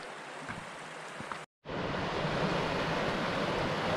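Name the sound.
small waterfall along a creek in Kanarraville canyon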